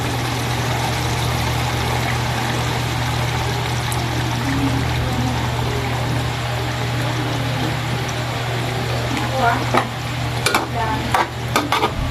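Nestle cream poured into a pan of simmering chicken and mushroom, a steady bubbling sizzle with soft stirring and scraping, some sharper clinks near the end, no talking.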